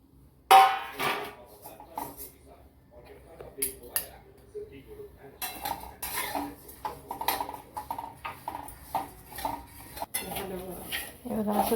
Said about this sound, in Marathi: मुगाची डाळ पण बारीक गॅसवर लाल होईपर्यंत छान भाजायची